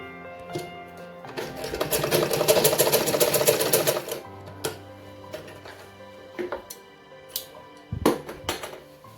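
A sewing machine runs a burst of double stitching along a salwar seam, a close rapid whir for a couple of seconds, followed by scattered clicks, taps and handling knocks as the fabric is moved.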